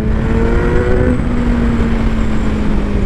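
A 2021 Kawasaki Z900 motorcycle engine drones steadily while riding, a loud, even hum with a slight pitch rise and wind rush, no voices.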